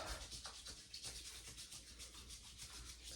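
Hands rubbing a high-hold, low-shine hair styling product between the palms, a soft continuous brushing friction heard up close and quiet.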